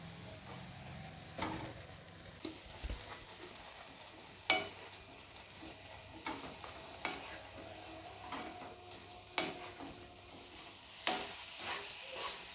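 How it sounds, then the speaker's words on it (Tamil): Flattened rice (aval) for sweet aval being stirred into white sugar syrup in a pan, with soft repeated scraping strokes and faint sizzling, fairly quiet and close. "வெள்ளை பாகில் அவள் எல்லா இடமும் படுற மாதிரி நல்லா கலந்து விட்டாச்சு"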